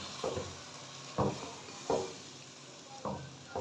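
Beef liver sizzling and frying in a pan while being stirred, a steady sizzle broken by four distinct scraping stirs at irregular intervals, close and fairly quiet, no voice.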